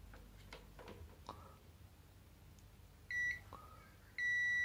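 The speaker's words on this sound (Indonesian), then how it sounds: "apabila alat berbunyi berarti fuse ini normal, tidak putus" A UNI-T UT210 mini clamp meter set to continuity gives two steady, loud electronic beeps while its probes test a fuse. Each tone is sustained, with a quiet gap between them and faint handling clicks before.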